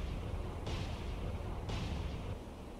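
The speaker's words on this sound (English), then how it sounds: "Fire VLS." Two bursts of an Arleigh Burke destroyer's VLS missile launch in the naval game Cold Waters, each a sudden roaring whoosh over a steady low rumble, about a second apart, with no talk.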